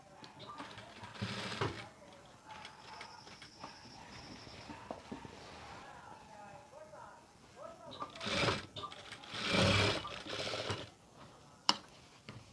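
A sewing machine stitches a V-shaped seam on a school uniform pinafore in a tailoring shop, running in short whirring, clattering bursts with louder stretches later on, while someone talks throughout.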